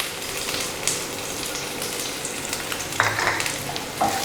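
Vegetables and carrot frying in a pan for omelet noodles, a steady close sizzle with scraping stir strokes and occasional clinks of the utensil against the pan.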